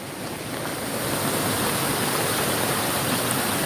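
Roaring flash flood water rushing through a Kentucky creek, a dense, continuous broadband roar that stays loud and steady throughout with no voices over it.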